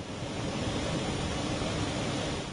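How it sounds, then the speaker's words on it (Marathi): Hajra Falls, a waterfall near Nagpur, gives a constant broadband roar of rushing water, even and unbroken throughout, with no voices. "सरकारच्या नजरेआड असणारा हा धबधबा गावकऱ्यांच्या 2 वर्षांच्या श्रमदानामुळे नजरेसमोर आलाय।"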